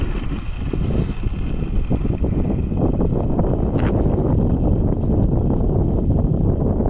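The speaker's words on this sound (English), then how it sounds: "The wind kind of helped you out." Wind gusts roar across the microphone at an outdoor RC flying field where an E-flite SU-30 jet is flown, a loud, continuous low buffeting rumble with no voices.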